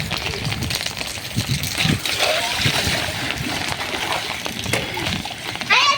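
Rain-flooded street water splashing and sloshing in Keshod, Gujarat, with steady close splatter and churning throughout, rising near the end, while people talk and shout nearby.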